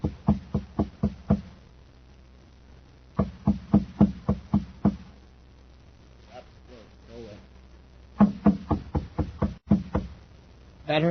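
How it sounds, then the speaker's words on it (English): Knocking on the door of a shabby machine shop at the top of a stairway, performed as a radio drama effect. Three close, loud clusters of rapid knuckle raps, with brief muffled talk between the later groups. "He knocks at the door."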